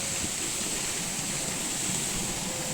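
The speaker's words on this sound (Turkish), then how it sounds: "Şimdi bu suyu şöyle şelaleyi yakından göstereyim size." A waterfall pours near Paşaderesi restaurant in Çameli, Denizli, a loud, steady, close rush of water with no break throughout.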